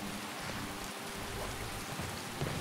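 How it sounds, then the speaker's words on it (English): Steady rain in Skyrim falls in a continuous hiss of drops, soft and even, with no other sounds. "Just rain."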